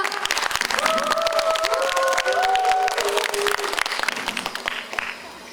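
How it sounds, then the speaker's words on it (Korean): An indoor speech event audience claps steadily to welcome a speaker, dense applause lasting several seconds before fading, with a musical tone sounding underneath. "큰 박수로 맞이해 주시기 바랍니다"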